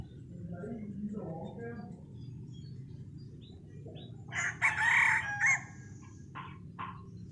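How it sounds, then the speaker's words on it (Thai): A decoy rooster crows once near the middle, loud and close, on a cold, overcast day; a low rumble of background noise and faint murmuring run beneath it, with a few short calls afterward. "ไก่กำลังง่อยขันอยู่ตอนนี้"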